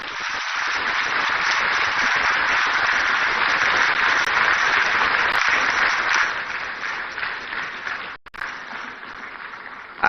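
Audience applause fills a hall at the 2025 National Economic Dialogue in Accra, Ghana: a dense, steady wash of many hands clapping for several seconds, then thinning and briefly dropping out before a final burst.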